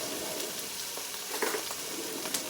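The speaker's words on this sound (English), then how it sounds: "I'm going to put my onions in, and actually that's a little too hot." Onions fry in hot oil in a pan, giving a continuous close sizzle with a few scraping stir sounds midway and no voices.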